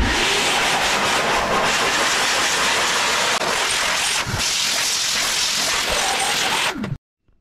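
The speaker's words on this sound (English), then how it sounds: "have your shop vac set up so it's actually blowing out" A shop vac set to blow pushes a steady, loud rush of air through a dusty tower fan outdoors, a continuous broadband hiss with brief dips, cutting off abruptly near the end.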